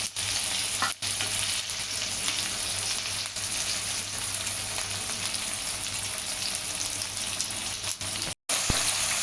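Chopped tomatoes, spring onion and green chilli sautéing in oil for a spring onion bhaji, a continuous close sizzle with occasional stirring clatter and no voices.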